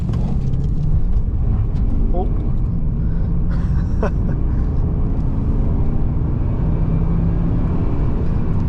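A Holden VY SS with an LS1 V8 accelerates from 0 to 100 km/h. Recorded from inside the car, the engine and road noise form a loud, constant roar throughout, and a voice briefly exclaims over it.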